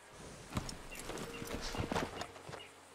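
Horse hooves clip-clopping at a steady walking rhythm in the Red Dead video game, close and moderately loud over a faint outdoor background.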